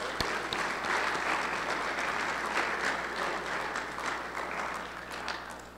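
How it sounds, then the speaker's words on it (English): A room of people at a high school football state championship ring and awards presentation claps steadily in warm, dense applause that holds for several seconds and fades slightly at the close. "we'll just give everybody a round of applause for that"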